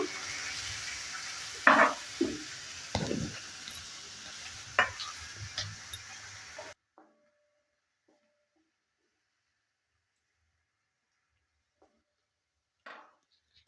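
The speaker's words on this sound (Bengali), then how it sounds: "গাজরটা দেওয়ার পর আবারও ভালো করে একটু নেড়ে চেড়ে নিচ্ছি এটাও ভালো করে একটু ভেজে নেব" Chopped carrots are stirred and fried in a pan for basmati fried rice, with a spatula scraping and a soft sizzle for about seven seconds, then near silence with a few faint clinks.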